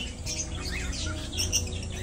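Birds calling in an aviary kept by a breeder, with scattered chirps and squawks over a steady background hum, fairly faint and close by.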